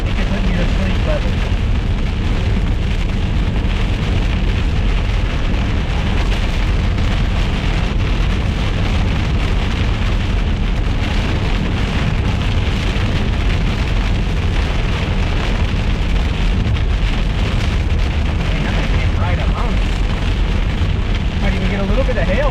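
Heavy rain pounds the windshield of a storm-chasing vehicle in southern Oklahoma, a loud, unbroken roar close to the glass that holds steady for the whole stretch.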